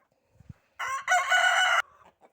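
A rooster crows once, loud and close, preceded by a couple of soft low clucks and followed by quiet murmuring.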